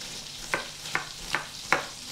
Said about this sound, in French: Nous démarrons les oignons.